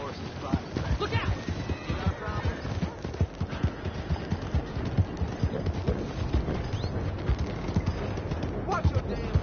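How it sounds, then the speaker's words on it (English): Horse hooves clip-clopping in the video game Red Dead Redemption 2, a steady rhythmic thudding gait, fairly close but muted, under ongoing talk and some bird calls. "That's a good horse."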